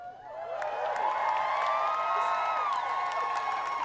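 Audience at an Anime Boston cosplay chess show applauding and cheering, a dense, sustained wash of clapping with whoops and shouts from a large crowd indoors.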